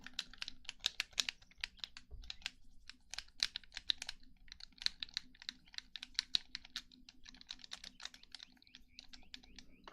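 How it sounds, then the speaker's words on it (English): Crisp, clicky buttons and keys pressed in quick irregular bursts, close and fairly quiet, with a steady low hum underneath and no talking. "it's nice and satisfying to have like buttons. That are nice and clicky"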